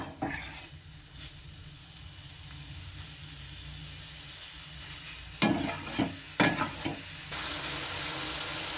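Spiced small-fish curry (chutto macher jhaal) frying in a pan, a steady low sizzle throughout with a few sharp stirring scrapes near the end, then a brighter, louder hiss.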